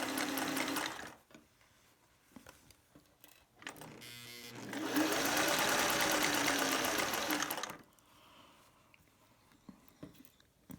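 A sewing machine stitches a dart in fabric, sounding close in a short burst and then a longer steady whirring run of several seconds, with quiet handling noises between.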